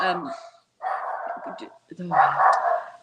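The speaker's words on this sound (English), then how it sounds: "Dog barking." A dog barks nearby in three short, loud bursts with brief pauses between them, heard indoors during a conversation.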